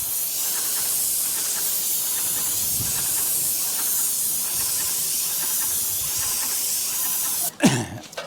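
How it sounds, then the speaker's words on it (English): Paint sprays onto a brick chimney in a loud, continuous close hiss that holds steady for several seconds, then breaks off with a brief clatter at the end. "spray a whole bunch on"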